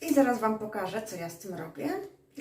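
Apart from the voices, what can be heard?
None of the usual background noises is heard.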